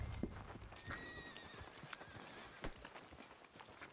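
Horse in the Red Dead Redemption 2 video game, hooves clip-clopping close by and a short whinny, faint and brief with no talking.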